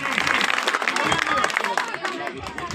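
A crowd at a Congress rally during a padyatra in Chhabra claps loudly to welcome new members joining from the BJP, with dense, uneven applause mixed with crowd noise.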